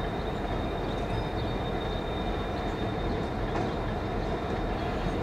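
A southbound SCL freight train passes near the railroad diamond at Auburndale, Florida, heading toward Tampa, a steady loud rumble of wheels and rolling cars with a faint high whine, continuous throughout and close by.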